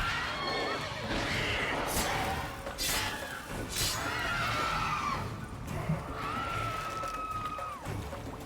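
Roach the horse in The Witcher 3: Wild Hunt lets out drawn-out whinnies over a busy game soundscape of rumbling ambience and sharp crashes, with game speech mixed in.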